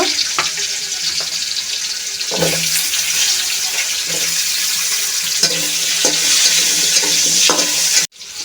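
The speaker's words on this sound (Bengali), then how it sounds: "এখন এই আলুটা ভেজে নেব" Potato pieces fry in mustard oil with a loud, even hiss close by. Spatula scrapes and taps recur throughout, and the sound cuts off sharply near the end.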